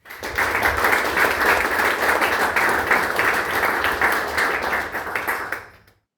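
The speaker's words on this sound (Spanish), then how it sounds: "así que un aplauso para el doctor Navarro" An audience at a book launch for a volume of political essays gives sustained, full applause that holds steady, then fades out quickly near the end.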